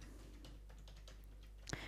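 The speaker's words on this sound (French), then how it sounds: "Vous faites entrer avec le clavier." Soft clicks of keys on a computer keyboard as a city name is entered, a quiet close patter with a sharper tap near the end.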